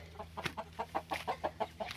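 Chickens in a backyard pen cluck in a quick, steady series of short notes, close and moderately loud, with no talking.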